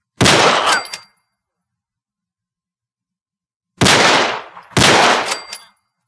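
Three loud, sharp M9A1 pistol gunshots ring out in Fallout 4 with a modern weapon mod, one shot followed after a long silence by two quick ones, each with a metallic ringing tail.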